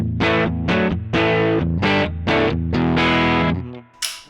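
Distorted electric guitar from a Les Paul Standard in the middle position with both pickups on, through a Boss OD200 overdrive/distortion pedal set flat: a run of loud, crunchy chord stabs in a steady rhythm, ending on a sustained chord and a brief scrape.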